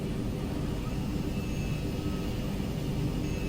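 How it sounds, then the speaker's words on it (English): A steady hydraulic pump whine runs inside a Twin Otter amphibious aircraft in Microsoft Flight Simulator 2020, buried under a loud, constant broadband engine and cabin roar with no pauses. "Did you hear it? This pump? Yeah, I think it's the hydraulic pump."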